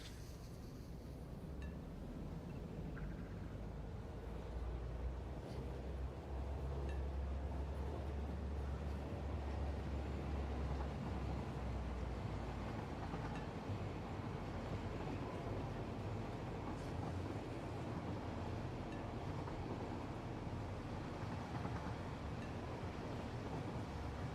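A train ride in the factory-building game Satisfactory gives a continuous, low rumbling roll with a steady rushing hiss, quiet and unchanging for the whole stretch with no talking.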